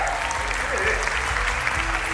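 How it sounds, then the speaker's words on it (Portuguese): Audience applause at a business awards conference panel, a steady, dense clapping from a seated crowd filling the hall for the whole stretch, close and even, with no pauses. "Palmas!"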